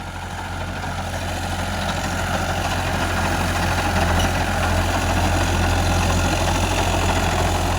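A 60-horsepower 6055 tractor engine idling, a steady low diesel rumble with a constant mid-range churn, close and even for the whole stretch, no talk.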